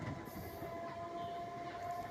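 A moving passenger train on the Srikakulam to Palasa line gives a quiet, steady rumble of carriages with faint wheel squeal and sustained tonal whine, heard from on board with no talking.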